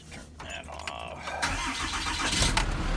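A Dodge Ram diesel engine cranking on a cold day after the glow-plug preheat, a short rough starter churn that catches into a loud, clattering idle nearby.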